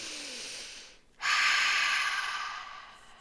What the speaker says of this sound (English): take some really, really deep breaths